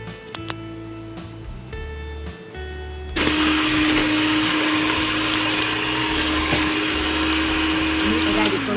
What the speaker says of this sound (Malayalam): ഇനി ഇതിലേക്ക് ബട്ടർ മിൽക്ക് ചേർത്ത് കൊടുത്ത് ഒന്നുകൂടെ ബീറ്റ് ചെയ്തെടുക്കാം